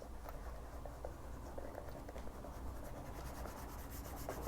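A cloth rubs wax onto a Birkenstock shoe, giving a quiet continuous brushing and scuffing with small ticks, close up over a low background rumble.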